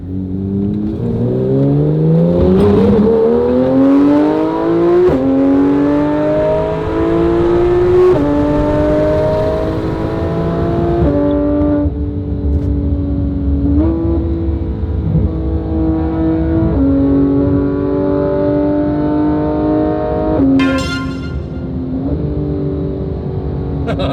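A Porsche GT3 RS engine revs hard and accelerates through several upshifts on a drive in Las Vegas. Each gear winds up to a loud, high howl before dropping in pitch at the next shift.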